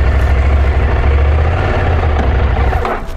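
A motorcycle engine runs steadily nearby, a loud continuous low drone at idle that eases slightly at the very end.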